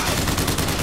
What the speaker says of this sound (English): Stop shooting me, you assholes!